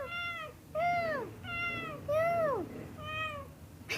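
A cat meows several times in a row, clear and close, with drawn-out, rising and falling cries separated by short pauses over a quiet background.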